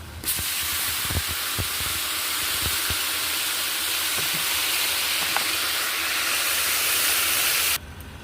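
Loud steady hiss and sizzle of water poured into a hot pan of frying lentils for khichuri, continuous for several seconds with a few faint clinks, cutting off abruptly near the end.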